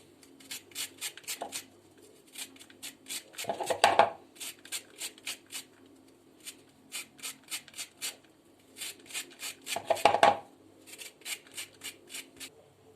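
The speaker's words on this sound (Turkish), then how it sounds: "Şimdi yıkadığımız limonları arkadaşlar öncelikle birazcık kabuklarından rendeliyoruz 2 adet limonun." Lemon peel is grated on a hand grater in a kitchen as a series of close, rhythmic rasping strokes in bursts, with short pauses between them and a louder scrape twice.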